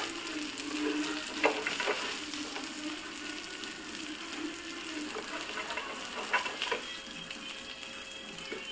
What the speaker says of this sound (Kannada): ಮೀನು ಫ್ರೈ ಆಯಿತು, ಇದನ್ನು ಈಗ ತೆಗೆಯುವ.